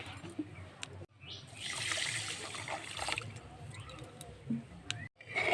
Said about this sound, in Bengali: আমি হাফ বাটি মতো জল দিয়ে দেব